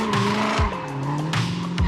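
A Toyota sports coupe with a manual gearbox and no driver-assist systems is driven hard on a race track. Loud engine drone and shifting revs mix with repeated tire squeals and skids, close by.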